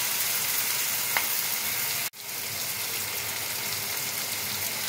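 Onion poppy seed curry (peyaj posto) sizzles and fries steadily in a pan as a little water is added, with a sharp brief hiss and dip partway through before the even frying resumes.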